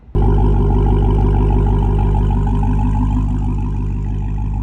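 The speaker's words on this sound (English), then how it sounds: "As you can tell, this is not stock exhaust. I didn't cut the pipes on my Hellcat." A Dodge Charger Hellcat with an aftermarket, non-stock exhaust fires up and settles into a loud, deep, steady idle rumble, close by and without speech.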